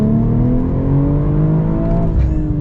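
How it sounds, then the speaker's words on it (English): A 2024 BMW M440i with the M Performance exhaust in sport mode, idling and gently revving with a steady, deep burble and low harmonic drone. It sounds close and loud, with a slight gargle near the end and no talk. "The M Performance exhaust does sound really good."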